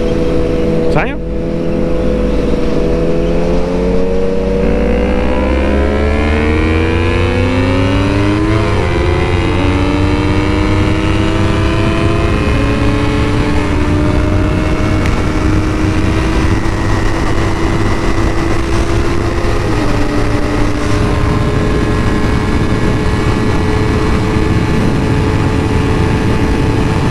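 A motorcycle engine revs up and shifts through gears on a motorway, the pitch climbing and dropping at each change, loud and steady throughout with wind noise and people talking over it.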